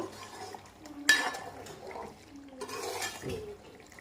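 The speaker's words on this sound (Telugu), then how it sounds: "ఇలా తిప్పేసుకొని మూత పెట్టేసుకొని ఇంకా ఆఫ్ చేసేయడమేనండి స్టవ్" A spoon stirs chicken curry in a pot, then a lid is set on with a sharp metallic clank, followed by further soft scraping and a second lid knock.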